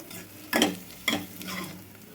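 Masala stirred and fried in hot oil for a Rayalaseema country-chicken curry, two sharp bursts of scraping sizzle a half-second apart, followed by a softer lingering fry.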